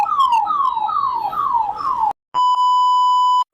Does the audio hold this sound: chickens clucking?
no